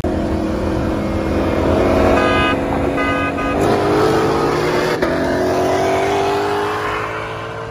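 A Shelby GT500 and a tuned Mercedes E63 accelerate hard in a roll race, making a loud, sustained engine roar with a rising pitch and a steady rushing drone that fades slightly at the end.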